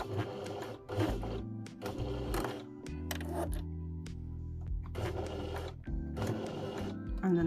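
A sewing machine runs a back stitch at stitch length 3 on fabric for a reusable Christmas crown, stopping and starting in several short mechanical whirring bursts, close and moderately loud, with brief pauses between runs.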